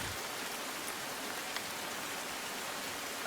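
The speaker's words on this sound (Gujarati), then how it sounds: "અહીંયા આજે પણ વરસાદ વરસ્યો હતો" Monsoon rain falling steadily, a dense even hiss of drops on surfaces, soft and continuous with no other sounds.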